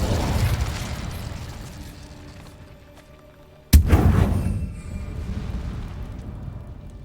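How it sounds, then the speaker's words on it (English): A fire spell cast in Hogwarts Legacy, a sudden loud burst that flares and then crackles and fades over a low ambient rumble. "Incendio."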